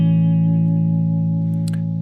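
Ambient electric guitar chord of root, fifth and third played through delay, reverb and octave effects, a loud sustained shimmering drone that hangs steadily, with a few light taps near the end.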